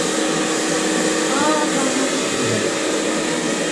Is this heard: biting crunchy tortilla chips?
no